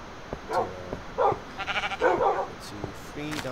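Dogs in Minecraft yelp and whimper in short, bright bursts, several animal cries in a row at close range, mixed with game noise and a voice speaking over them.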